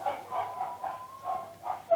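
Dogs bark in a regular series of about eight yaps in quick succession, faint and somewhat distant, heard from indoors behind a quiet room.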